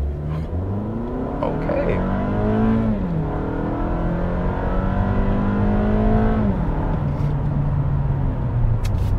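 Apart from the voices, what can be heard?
sedan launching with brake torque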